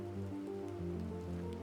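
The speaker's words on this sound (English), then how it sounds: "as you can see also, we have rain." Steady rain falls in the survival video game Planet Crafter, a constant hiss of drops layered over a droning tonal ambience, holding even and unbroken for the short moment.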